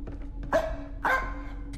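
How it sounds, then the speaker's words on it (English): Dog barking inside a horror video game, two short sharp barks about half a second apart, fairly clear over a low steady background hum. "Oh, the dog is barking."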